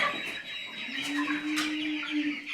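American Bresse chickens cluck softly on a farm, a faint, steady call drawn out over a couple of seconds with no voices over it.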